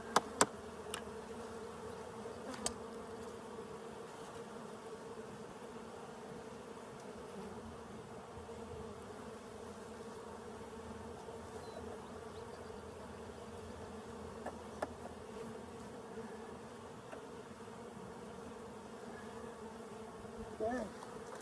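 A steady, even drone of honey bees buzzing around a hive in Colorado, held at one level throughout with a few faint clicks and knocks.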